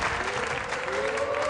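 A bowling crowd at a match breaks into sustained, dense applause that fills the hall at steady loudness, with a faint tonal murmur running underneath.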